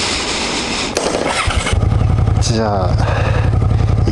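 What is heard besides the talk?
Suzuki Gladius 400 motorcycle engine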